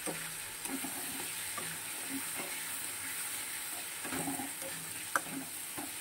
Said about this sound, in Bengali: আলু পেঁয়াজ টমেটো সবটাই ভাজা ভাজা হয়ে গেছে খুব ভালো করে।